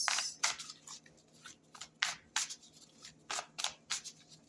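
Tarot cards being shuffled by hand: a quick run of crisp, papery riffles and slaps, roughly a dozen short bursts in an uneven rhythm, close and fairly quiet, with no talking.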